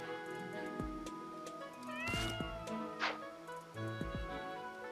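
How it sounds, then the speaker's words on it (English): A cat meows in the video game Fire Emblem Three Houses over soft looping game music. A few short meows and chirps stand out, with hoof-like clops nearby. "He meows at you, though."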